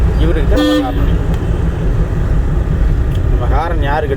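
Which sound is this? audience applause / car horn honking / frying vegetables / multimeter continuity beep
car horn honking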